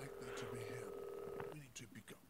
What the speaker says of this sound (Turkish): Tamam hadi telefon çalıyor bak.